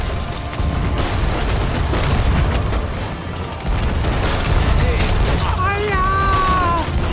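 Ship cannons firing in Sea of Thieves, a steady rumbling barrage of deep booms running the whole stretch, mixed with game noise and a voice-like sweep near the end.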